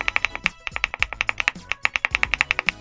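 Close, crisp clacking of keystrokes on a Monka A75 Pro mechanical keyboard with stabilized keys, fired off in a quick, steady run of sharp taps with brief pauses between bursts.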